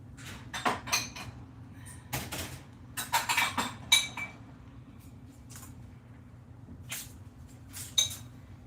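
Ceramic serving dishes clatter and clink as they are lifted out of a cupboard in a home kitchen, several sharp knocks and rattles scattered through the clip with quieter gaps between.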